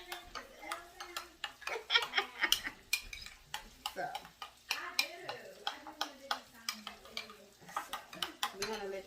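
Salmon sizzles in a pan while a utensil clinks and stirs in short rhythmic bursts, with a person talking over the kitchen sounds.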